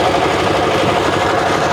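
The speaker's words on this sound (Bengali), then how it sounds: "জানি না ইঞ্জিনের কারণে নয়েস কতটা মানে ভয়েস কতটা বোঝা যাচ্ছে" A boat engine running on a river near Rajshahi gives a loud, steady, close droning rumble with no break.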